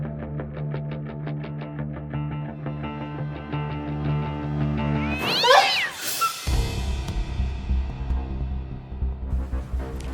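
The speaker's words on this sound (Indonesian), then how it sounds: "Ternyata cuma kucing, Mbak." A cat meows in a home kitchen at night, a few close wavering cries heard over a steady humming background, with a sudden loud clattering burst midway before the hum returns.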